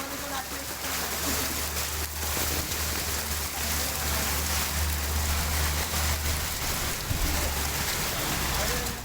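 Heavy rain in Pune with rainwater flowing, a thick continuous wash of falling and rushing water with a low rumble underneath, steady throughout.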